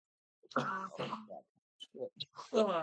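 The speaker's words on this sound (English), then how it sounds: "boy, do I love having occasional coughing fits" A person coughs several times in a short fit, close and rough, with throat clearing between the bursts.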